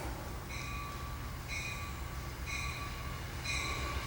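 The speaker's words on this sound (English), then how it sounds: "I'm gonna cut this off because the train's coming" A train is approaching, with a steady low rumble and a series of evenly spaced high squealing or ringing tones that repeat about once a second, fairly loud and with no voices.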